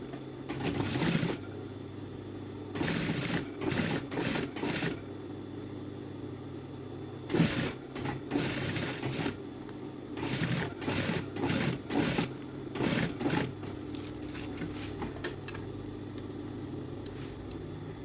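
A sewing machine stitches a folded hem in a series of short, close bursts of running separated by brief pauses, with no talk over it.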